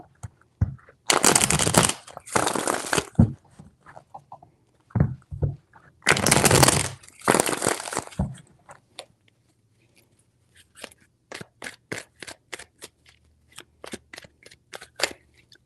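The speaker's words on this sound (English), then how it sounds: "Three shuffles." Cards being shuffled in quick riffling bursts, two long loud runs followed by a series of shorter crisp flicks and taps, close by with no talking.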